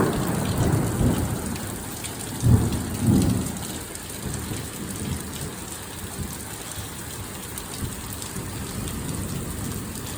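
Afternoon thunderstorm in Maryland: heavy, steady rain pours on surfaces while thunder gives a loud close crack and a rumble partway through, with no voices.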